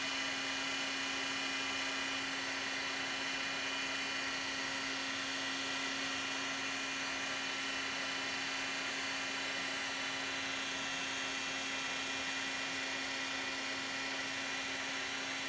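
A heat gun blows continuously while melting embossing powder on a craft piece, a steady, even whir with a faint tonal hum and no pauses.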